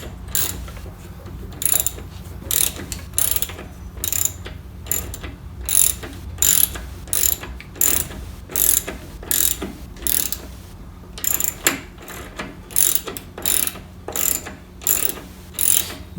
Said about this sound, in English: so you can get in and tighten that bolt up.